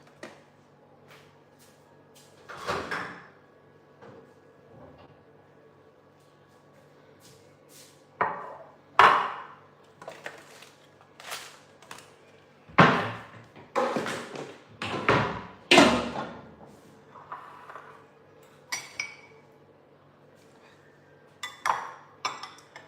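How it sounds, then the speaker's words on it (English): Food being taken out of a microwave: scattered clinks, taps and thuds of dishes and cutlery, sometimes in quick bursts and sometimes spaced seconds apart, close by against a quiet room hum. "Let me take my food from the microwave."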